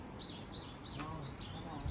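Birds chirping outdoors near a veranda in Sokcho, South Korea, a quick, repeated high tweeting pattern, faint and distant over a steady background hiss.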